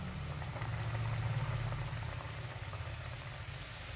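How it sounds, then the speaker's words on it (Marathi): Wheat-flour valiv ladoos are dropped one at a time into very hot oil, giving a steady, close bubbling frying hiss with a low rolling rumble throughout. "आता आपण त्याच्यात लाडू सोडू तळायला. असं एक एक हळूहळू, अंगावर तेल नाही आलं पाहिजे."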